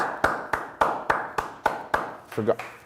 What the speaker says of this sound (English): I forgot I was the only one here, so my claps are pretty mute.